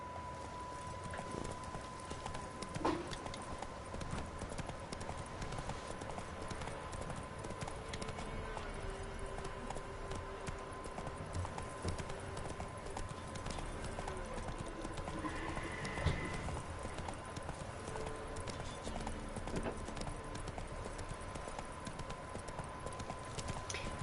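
Horse hooves clip-clop steadily in Witcher 3 as the horse is ridden, a continuous rhythmic trot heard up close over game ambience for the whole stretch, with a brief whinny-like accent partway through.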